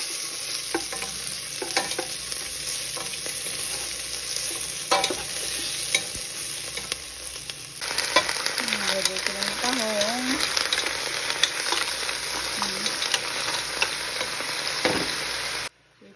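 Garlic sautéing in a pan while cooking mussel tinola, a steady close sizzle and frying hiss with occasional stirring scrapes throughout, ending abruptly.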